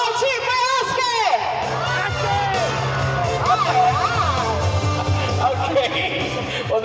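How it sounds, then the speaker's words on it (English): Audience at a bird and mammals show at Dubai Safari Park shouting and cheering, a loud, steady crowd roar with yells and children's whoops, voices talking over it throughout. "Can we all cheer for Oscar?"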